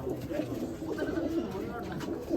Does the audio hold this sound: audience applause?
no